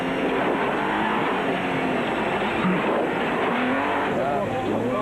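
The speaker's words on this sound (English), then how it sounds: "now with a very different exhaust note compared to that of the V8 previously used" Team Ford Racing Ranger race truck at the 2003 Sugarbelt 400 rally, its engine exhaust note droning steadily and loud throughout, with a shifting, rasping roar and speech mixed in over it.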